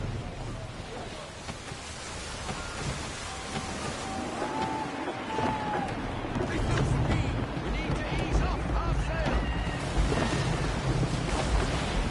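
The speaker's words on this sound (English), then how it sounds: "Gusty winds can be difficult to manage." Gusty wind roars steadily in a sailing video game, mixed with surf and sea noise, growing slightly stronger and fuller partway through.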